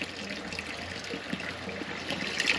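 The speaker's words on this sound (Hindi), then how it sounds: "पानी तो आ रहा है, साफ पानी आ रहा है।" Clear spring water trickling and splashing steadily nearby in the Dhanaulti hills, a soft continuous flow with light bubbling.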